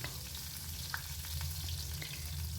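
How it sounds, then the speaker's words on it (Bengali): Cumin, fenugreek and bay leaf crackling as a tempering in hot oil, for a gourd and fish-head ghonto; a soft, continuous sizzle with a few small pops and spoon clicks, quiet and without talking. "সেই তেলেই দিয়ে দিলাম সাদা জিরা চাইলে একটু মৌরিও দেওয়া যায় আর মেথি তেজপাতা ফোড়ন"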